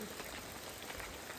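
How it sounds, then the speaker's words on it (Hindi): Rain falling steadily on surfaces along a rough forest path at Dhuna Pani near the Narmada in Amarkantak, a soft continuous patter at a distance with no voices. "बारिश की वजह से रुकना पड़ा"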